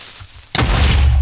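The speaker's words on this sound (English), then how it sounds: "That was a big explosion." A sudden loud blast from exploding TNT in Minecraft, a sharp onset followed by a broad, rumbling roar that stays loud to the end.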